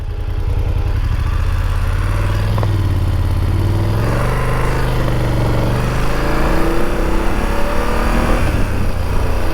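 Riding a motorcycle with the helmet visor open: loud, constant wind buffeting blends with the engine's droning rumble and gentle pitch rises as it accelerates.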